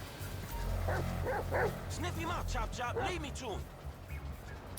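A dog in GTA V barks and yips in a quick series of sharp calls over a low background hum, with a voice talking under it.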